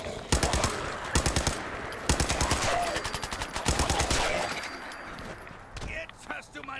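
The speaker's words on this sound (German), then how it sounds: "Seit wann hat Longfellow so eine 10mm Pistole?" In Fallout 4, rapid bursts of 10mm pistol fire crack in quick succession, loud and close, with short pauses between volleys and a voice talking over parts of the shooting.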